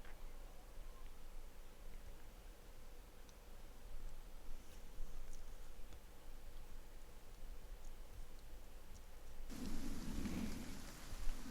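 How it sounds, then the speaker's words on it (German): Steady rain pours in the fantasy video game Pillars of Eternity, a constant hiss, until a deep roll of thunder swells loudly near the end. "Es regnet."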